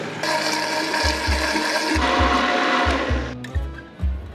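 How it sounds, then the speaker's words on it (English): A kitchen blender whirs loudly, blending an orange citrus tequila vinaigrette with olive oil, salt and tequila, cutting in and out in short bursts and stopping abruptly near the end. "now we're going to blend everything with the 2 cups on our olive oil"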